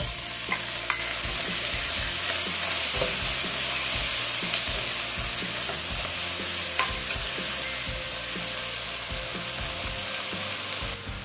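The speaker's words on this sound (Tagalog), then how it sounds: "Medyo lutuin rin po natin itong ating kamatis." Tomatoes sautéed in a pan for tuna head soup, giving a continuous loud sizzle with a constant hiss and a steady run of clattering, scraping stirs from start to end, with nobody speaking.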